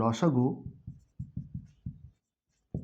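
Writing strokes during a maths lesson on LCM and HCF by prime factors, a series of short, evenly paced scratchy pulses with pauses between them, fairly close, following a brief spoken moment at the start.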